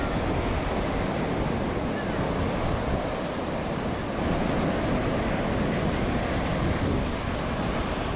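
Steady roar of sea waves washing onto Bhatye beach in Ratnagiri, loud and continuous as the tide rises, with wind buffeting the microphone throughout.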